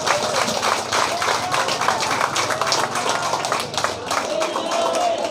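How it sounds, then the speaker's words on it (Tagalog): Audience applause for a senator at a Philippine assembly, dense steady clapping from a crowd lasting several seconds, with voices faintly mixed in. "Tuloy-tuloy na palakpak para po sa ating Senator Antonio Sani Trillanes."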